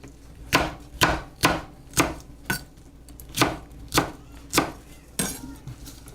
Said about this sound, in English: we're doing is just chopping our